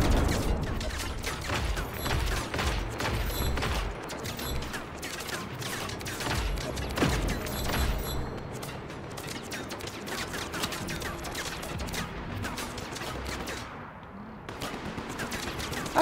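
Dense enemy gunfire crackles through a Just Cause 3 firefight, rapid bursts and shots overlapping almost continuously at close range and fairly loud, with a brief lull near the end.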